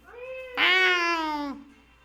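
A person imitating a cat with a single drawn-out meow, close and fairly loud, vocal and nasal with a falling pitch at the end.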